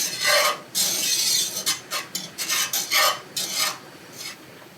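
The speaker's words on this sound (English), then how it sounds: "I'm sitting here just gently stirring it just so it doesn't get clumpy" A spoon scrapes and rasps through thick apple pie filling in a pot, gently stirred in a steady back-and-forth rhythm of short, close strokes.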